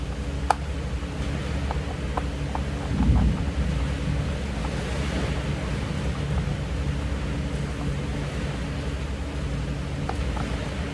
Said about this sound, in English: We had a rainstorm hit while I was in the middle of this.